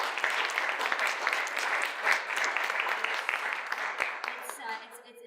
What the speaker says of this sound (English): So I just want a round of applause for all of them.